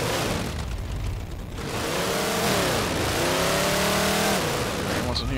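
Warthog vehicle engine in the video game Halo 4, revving and shifting pitch as it drives, loud and continuous, with rising and falling tones through the middle.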